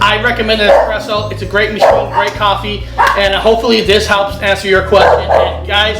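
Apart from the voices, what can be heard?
dogs barking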